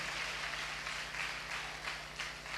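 A church congregation at a Tamil Sunday service claps steadily throughout, a dense, even wash of hands over a low hum from the sound system, with no voices on top.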